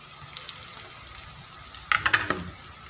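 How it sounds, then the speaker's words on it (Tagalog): Onions stirred and sautéed in a pan for pork meatball soup with patola, a soft background sizzle with a short cluster of scraping stirring strokes near the end. "So inix na po natin ang sibuyas."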